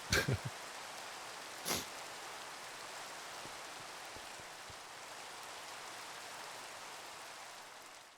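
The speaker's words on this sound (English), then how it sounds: "it's raining. This is actually the first time it like rained in a long time in this world." Steady rain falls in the game Minecraft, an even hiss of drops that continues throughout, with a couple of brief sharp clicks near the start.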